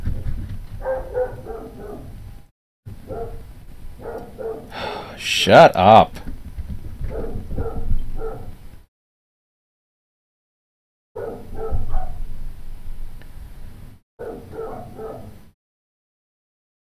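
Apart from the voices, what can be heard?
dogs running around upstairs, barking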